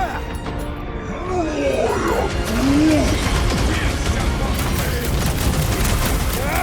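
Rapid gunfire in the Marvel's Guardians of the Galaxy video game, dense crackling bursts with mechanical clatter running throughout at steady loudness, with game voices talking over it.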